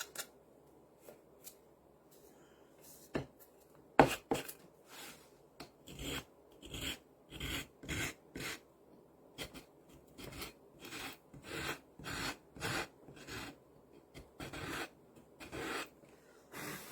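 Thick paper being sanded by hand in repeated rasping strokes, sparse at first and then settling into a steady back-and-forth rhythm, close and fairly quiet with no talk.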